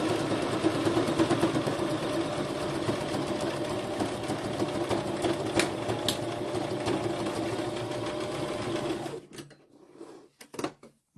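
A sewing machine stitches a zigzag, its rapid mechanical whirring and clatter running steadily for about nine seconds before stopping, followed by a few quieter handling clicks.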